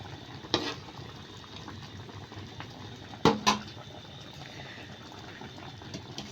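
Rice boils in a pot of water while cooking for vegetable fried rice. A soft, steady bubbling hiss continues throughout, broken by a few sharp metallic clanks of a utensil against the pot.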